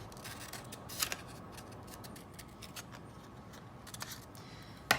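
Scissors cut paper letters from a printed name at a preschool craft table, a few faint snips and clicks over steady background noise, with a sharper snip near the end.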